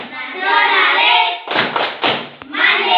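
In a classroom, children chant in unison and then break into a brief run of rhythmic group clapping with a few thumps before the chanting resumes.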